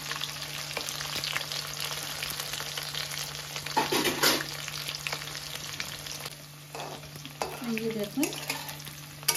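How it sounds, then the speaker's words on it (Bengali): Jackfruit seeds fry in a pan, a steady soft sizzle broken by scraping stirs and a few clattering bursts, with a brief spoken word partway through. "একটু সময় ভাজলাম, বেশি ভাজতে লাগে না"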